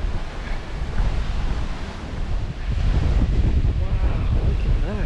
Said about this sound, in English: Come on, wind stop blowing